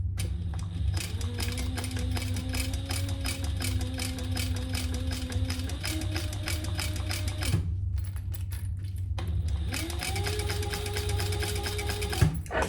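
Home sewing machine back stitching a zipper, a fast mechanical whir with rising and falling motor pitch, running in two long bursts separated by a brief pause.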